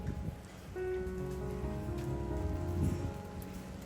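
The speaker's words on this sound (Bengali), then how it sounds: "বৃষ্টি হচ্ছে, তারপরে হচ্ছে গিয়ে বৃষ্টি বাতাস" Steady rain falling on vegetable plants in a home garden, a constant close patter on leaves and surfaces with a faint tonal hum underneath and no voices.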